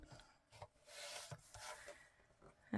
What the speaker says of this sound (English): I'm going to use my decal edge trimmer and back it up a bit.